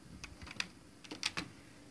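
Several quick key presses on a computer keyboard as Control F is typed, light clicky taps in small irregular clusters, close and fairly quiet with no talking.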